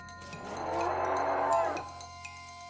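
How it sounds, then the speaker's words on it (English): A hell cow, really a calf, in the video game West of Loathing gives one drawn-out bellowing moo that swells and fades, over a steady game music hum with faint chimes and no talk. "At the side of the trail, you see a small hell cow, or hell calf, really."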